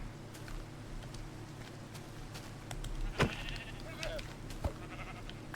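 In Minecraft, a sheep gives a short, faint bleat partway through, over quiet game sounds and a few soft clicks and thumps.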